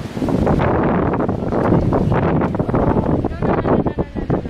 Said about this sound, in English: Literally, it's so freaking windy out here.